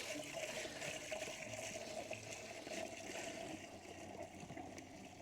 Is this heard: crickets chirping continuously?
no